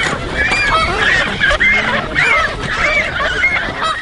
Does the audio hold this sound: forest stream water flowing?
no